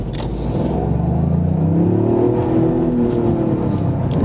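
A Toyota GR Yaris engine revs up steadily, its pitch rising and holding as it accelerates, loud and close with no talking.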